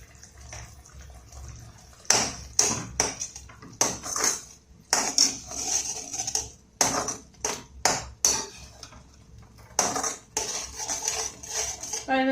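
Sweet modak filling being stirred in a pan on a stove, with repeated sharp metallic clinks and scrapes of a spoon against the pan in uneven bursts, fairly close, with quiet gaps between.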